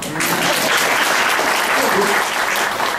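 A crowd at a talk breaks into loud, dense applause, a continuous wash of many hands clapping together at close range.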